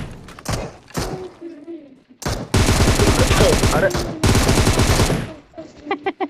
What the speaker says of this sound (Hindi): बहुत गोलियों की आवाज आ रही है भाई